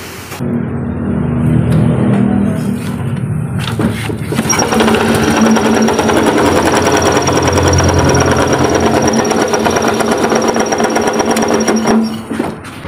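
A small motorcycle engine with a faulty magneto idles roughly and loudly up close, its uneven sputtering rattle running steadily for several seconds before cutting off.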